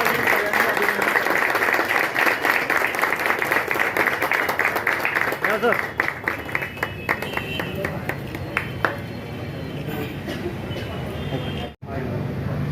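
Audience at a police station gathering claps loudly to welcome a police inspector with a bouquet, dense sustained applause that thins toward the end, with voices heard over it.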